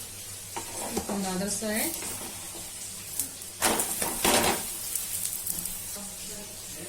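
Aloo paratha frying in ghee on a pan over a medium flame, giving a steady sizzle with bursts of scraping and stirring. A person talks briefly over the cooking.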